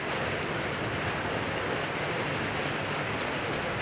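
Steady rain falls outdoors during a motorcycle wash, a constant broadband hiss of drops with no pauses or voices.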